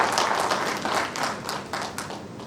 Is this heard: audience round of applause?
yes